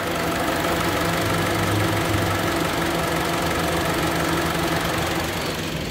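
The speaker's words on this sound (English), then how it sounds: "You can basically hear the motor run perfect." A 2008 used car's engine runs at a steady idle, a continuous loud mechanical hum with a faint knocking rhythm, heard alone and unchanging throughout.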